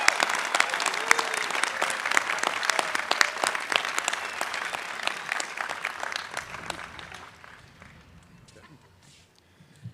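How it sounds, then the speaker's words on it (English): Loud, sustained applause from a large commencement crowd, with some cheering and voices mixed in, gradually thinning and fading out toward the end. "Big round of applause."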